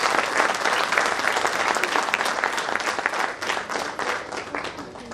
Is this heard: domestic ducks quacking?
no